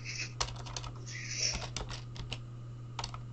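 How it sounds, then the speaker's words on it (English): Rapid, uneven clatter of keys being typed on a computer keyboard, close and fairly loud, with a steady low hum running underneath. "Because I'm typing a sick comment."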